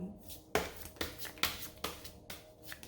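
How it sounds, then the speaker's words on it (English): Tarot cards are shuffled by hand up close, about seven quick riffling bursts in an uneven rhythm, each starting with a crisp snap and fading into papery rustle. "I'm shuffling this in the most,"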